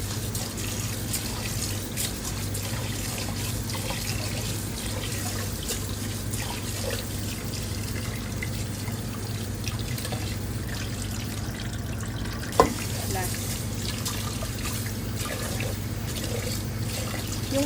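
Water from a tap runs steadily into a pot as rice is washed by hand for a rice cooker, a constant close splashing flow with a single brief knock near the end and no voices.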